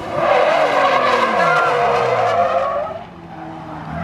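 Tires squeal loudly as a car drifts with wheel-lifting technique on a racing track, a continuous screech with engine tone sweeping underneath before fading near the end.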